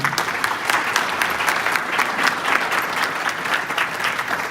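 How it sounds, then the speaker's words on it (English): A round of applause from the audience at a Remembrance Month ceremony in Vaughan, loud, continuous clapping from a sizeable crowd that holds steady throughout. "please, a round of applause for Roseanne."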